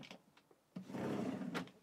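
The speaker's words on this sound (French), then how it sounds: "2 tiroirs de stockage." A storage drawer in a Mobilvetta Krosser P90 motorhome slides open or shut, a short faint rumbling glide with a soft knock at the start and end, quiet and brief.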